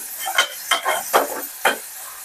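Vegetables for oats upma frying in oil with turmeric and salt, a spoon stirring them in four distinct scraping strokes over a soft steady sizzle, close and alone.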